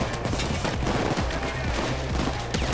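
Rapid gunfire rattles through a Payday 2 heist, dense overlapping automatic bursts and shots firing continuously at high volume, without speech over it.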